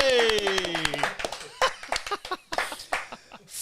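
Close, crisp handclaps greeting a guest on a podcast set, scattered and uneven, fading in and out under cheering voices and talk.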